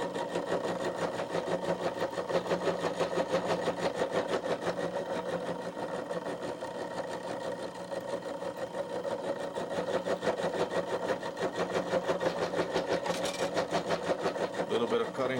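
A metal-cutting machine cutter feeds steadily into a metal workpiece, giving a continuous, even grinding whir with a dense rapid pulse that holds at a moderate level from start to finish.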